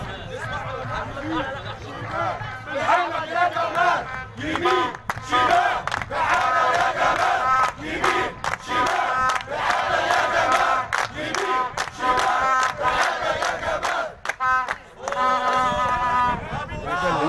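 Football supporters chant loudly and continuously in a stadium for a local club's fans, a dense crowd roar with rhythmic shouted surges throughout.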